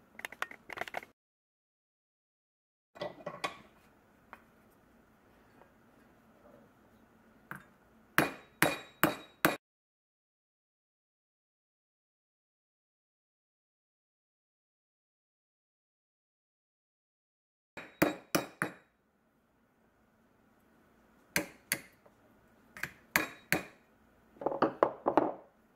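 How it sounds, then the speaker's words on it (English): Metal hammers strike a deer antler candlestick form set in a block with a hole, in sharp ringing clinks that come in quick bursts of three or four blows, broken by long silent gaps. "I have an assortment of hammers."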